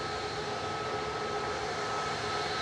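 An Airbus A321neo taking off from Manchester Airport on a flight to Ibiza gives a steady, loud jet engine roar that holds at an even level from start to finish, with no talk over it.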